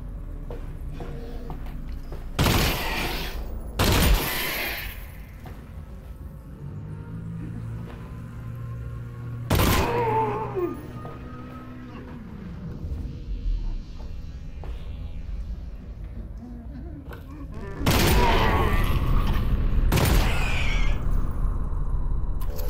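Gunfire from a weapon in the VR game Half-Life: Alyx, several sharp loud bursts spread across a quiet stretch, with a pair of shots early, one in the middle and a cluster near the end, a low voice talking faintly between them.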